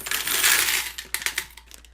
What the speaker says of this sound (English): So let's add those to my coin container also.